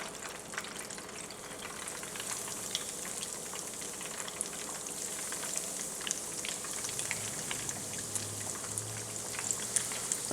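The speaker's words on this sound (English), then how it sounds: "we're going to take the last of our fish and cook that up" Batter-coated Louisiana catfish deep-frying in hot oil, a dense continuous crackling sizzle with fine popping, moderately close and steady throughout, no voices.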